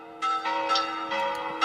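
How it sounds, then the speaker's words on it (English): A clanging alarm bell sound effect, rung by a goblin during a tabletop fantasy adventure, with rapid bright strikes ringing close and loud in a short burst. "he's pulling the alarm bell."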